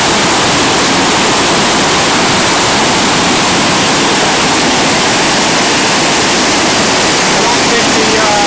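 A flooded river rushes through standing waves in a steady, loud, broadband roar of churning whitewater that continues unbroken throughout, close and overwhelming, with no distinct voices above it.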